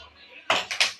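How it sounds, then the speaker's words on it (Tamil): A cooking pan set down on a stove burner before frying rice, heard as a quick metallic clank followed by two smaller knocks, close and alone within one second. "சட்டி வச்சுக்கலாம்."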